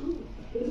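An imported-breed male pigeon gives a short, soft, low coo nearby, with a brief second swell of the call at the end.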